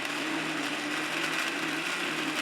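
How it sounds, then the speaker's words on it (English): A blender whirring steadily as it mixes a spice paste with water, a continuous close motor drone with gritty churning throughout. "Now blend everything together until you have a well-mixed liquid paste."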